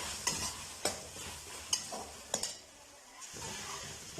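Chopped capsicum is stirred and fried in a pan for white sauce pasta: several sharp scraping strokes come at an uneven rhythm over a soft, steady sizzle, close and moderately loud.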